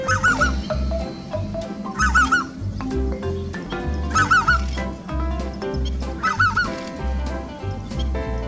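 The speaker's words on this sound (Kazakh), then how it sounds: "Қаз, қаз." Domestic geese honk in repeated loud, close bursts of two or three nasal calls, separated by short gaps over a low, steady background.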